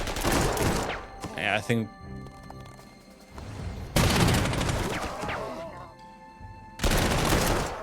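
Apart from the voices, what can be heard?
artillery fire, from video game Panzer Corps 2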